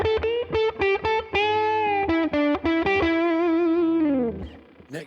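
An electric guitar through a Tone King MK2 amplifier, with no tremolo or reverb, plays a run of clipped, gritty overdriven notes and chords, ending on a sustained note that fades out, with no voices.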